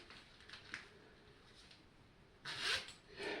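Zipper on a costume outfit being worked, with a loud rasping pull near the end and a second shorter pull after it, close and alone over a quiet background.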